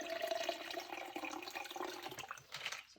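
Ice water pours into color-changing plastic cups, giving a continuous close splashing and gurgling stream with small clinks that thins out and trails off near the end, with no talking.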